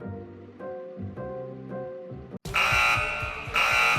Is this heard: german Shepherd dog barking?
no